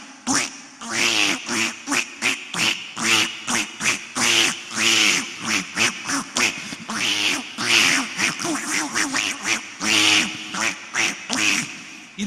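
A human voice imitates a duck quacking by a stream, a rapid run of nasal quacks in uneven bursts with short gaps, close and clear, with no other sound behind it.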